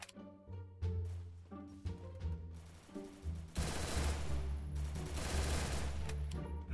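Bursts of rapid gunfire in the video game Free Fire, starting as spaced single shots and building into dense, sustained automatic fire with no talking over it.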